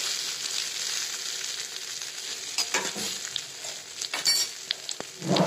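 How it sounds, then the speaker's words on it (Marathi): Tempering crackles and sizzles on an iron tawa for stuffed masala okra, a steady frying hiss with scattered sharper pops and spatula scrapes toward the end, close and without talk. "तवा लोखंडाचा तवा आहे माझा, पोळ्या झालेल्या आहेत आता, त्याच्यावरच फोडणी टाकली."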